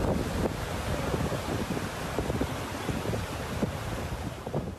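Turbulent floodwater rushing across sandy ground in Oman, a loud, continuous roaring wash with gusty wind noise buffeting the microphone and no talk.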